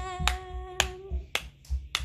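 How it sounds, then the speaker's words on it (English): A voice sings briefly before sharp hand claps land in a steady rhythm, five or so crisp claps close by, keeping time for a children's storytime dance. "They made up a dance called clap and clap and clap and clap"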